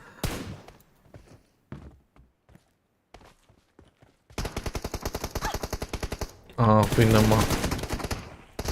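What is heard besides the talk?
gunfire in a video game shooter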